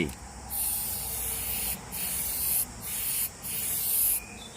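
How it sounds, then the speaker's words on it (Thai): A spray bottle mists liquid onto a rusty steel wool scrubber, giving loud bursts of hissing spray in several long pulses separated by short pauses, with no other sound competing. "เนี่ยฉีดนะครับ ฉีดให้ชุ่มๆเลย"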